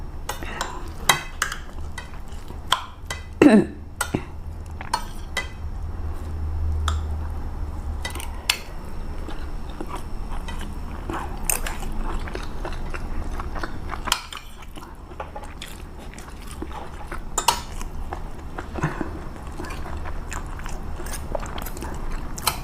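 Scattered sharp clinks of a spoon against a plate come and go over quiet chewing and soft clatter, close by and irregular, during a meal of chili paste, blanched vegetables and canned fish.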